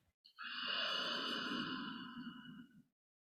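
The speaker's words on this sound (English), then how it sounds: "and breathe out." One long, slow exhale during a relaxation exercise, a breathy, sigh-like rush of air lasting a few seconds, close and soft, then silence.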